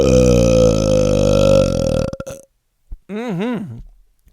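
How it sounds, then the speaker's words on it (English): A man lets out a long, loud, deep burp lasting about two seconds, close up, followed after a short pause by a brief voiced grunt. "My mom doesn't like the burp."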